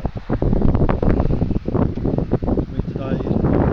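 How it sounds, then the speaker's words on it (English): Strong gusty wind blows across the launch pad at pad 39B, rough microphone buffeting that comes and goes in bursts, loud and close, while someone talks over it. "There is a fair bit of wind"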